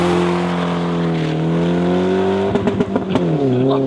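A BMW E36 316 engine idles steadily while the car is being parked, its smooth low hum running continuously, with a burst of short uneven revs and knocks near the end.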